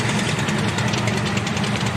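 A 1930s luxury sports car refitted with a 4.5 litre engine idles at a vintage car parade, a loud, steady, low rumbling throb close by.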